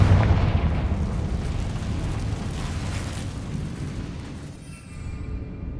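Confringo fire spell exploding in a Harry Potter video game, a loud rumbling blast and burst of fiery debris that rolls on for several seconds before tapering off, with no speech over it.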